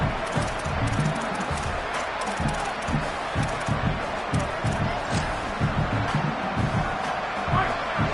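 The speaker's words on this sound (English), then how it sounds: "And this crowd coming to life here, trying to help the defense get a stop with the offense pinned back." A football stadium crowd at an NAIA game rouses to cheer on the defense, a rumbling roar with rhythmic stomping and clapping under steady crowd noise.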